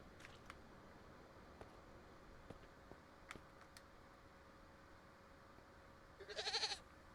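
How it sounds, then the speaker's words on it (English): A goat in a video game bleats once near the end, a short wavering cry over quiet background with faint ticks. "Oh, another goat. Can I ride this goat?"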